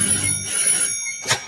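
A telephone rings in the evening, a single bright metallic burst of ringing near the start and another short ring toward the end, loud and close with no one talking over it.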